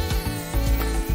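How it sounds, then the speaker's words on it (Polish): A mosquito buzzing close by, a loud continuous high whine that wavers in pitch with faint low thuds underneath, heard alone. "Głupi komar."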